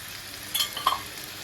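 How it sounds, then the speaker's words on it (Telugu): Green chicken pieces frying in oil over a medium flame, a soft steady sizzle with a couple of brief spatters or pan touches, close but quiet, no talking. "ఎక్కువ మీడియం కాకుండా అలాగే లో ఫ్లేమ్ కాకుండా మీడియంలో పెట్టుకొని మనకి ఫ్రై చేసుకోవాలండి"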